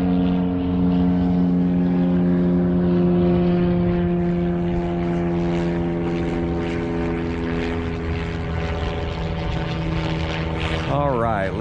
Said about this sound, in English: So that's why you hear all these aircraft